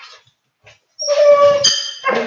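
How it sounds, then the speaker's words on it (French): A border collie whimpers and whines in high, tonal yelps, with a few faint short sounds first and then a louder drawn-out whine followed by another brief cry, close by. "Le border, c'est un chien qui a besoin de beaucoup d'activité"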